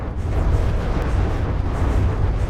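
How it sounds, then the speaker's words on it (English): Main turrets firing aboard a warship in the From the Depths naval combat game, a dense, continuous low rumbling roar of heavy gunfire and blasts that holds steady and loud throughout without clear gaps. "as soon as the main turrets fire, it just cuts straight through the ship"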